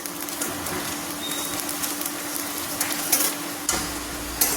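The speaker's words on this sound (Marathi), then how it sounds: "तर हे तीळ मी भाजायला टाकलेत कढईत." Sesame seeds roast in a wok with a soft, steady crackle and hiss, punctuated by a few light scraping stirs.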